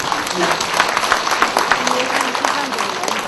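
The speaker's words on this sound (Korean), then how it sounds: "큰 박수 부탁드리겠습니다" Applause from a ceremony audience, a dense wash of many hands clapping steadily throughout, with voices mixed in underneath.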